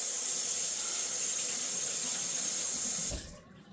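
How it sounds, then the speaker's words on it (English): A running kitchen tap as hands are rinsed, a steady loud hiss of water splashing into a sink for about three seconds before it is shut off and fades. "I'm just going to set this down a little bit and just rinse my hands off quick"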